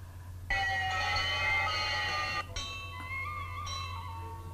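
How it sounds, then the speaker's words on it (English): Bells ring out in a film excerpt, a bright sustained chime that decays, then a second softer strike with a lingering tone, over a low steady hum. "The bells were clinging"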